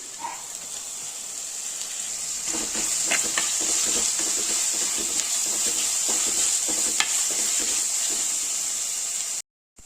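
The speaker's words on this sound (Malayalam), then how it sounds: "ഇനി നമുക്കിതിലേക്ക് വെളുത്തുള്ളി ഇഞ്ചിയും ചെറുതായിട്ട് അരിഞ്ഞത് ഇടാം" Chopped garlic and ginger fry with browned onions in a pan, a steady close sizzle with intermittent scraping stir clicks, no voices.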